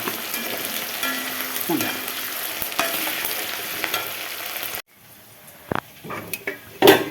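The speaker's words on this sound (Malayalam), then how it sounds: "അത് നമ്മൾ ഈ വെളിച്ചെണ്ണയ്ക്കകത്ത് നന്നായിട്ടൊന്ന് കരിയാപ്പിലൊക്കെ ഇട്ട് വറുത്ത് കോരിയെടുക്കണം." Onions and curry leaves frying in coconut oil in a pan, a steady crackling sizzle with stirring scrapes and a few utensil clinks, then a quieter pause broken by sharper clanks; a voice briefly speaks.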